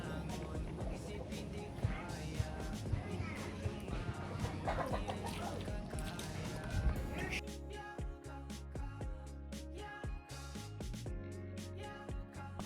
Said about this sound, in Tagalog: Pati manok na kay Agri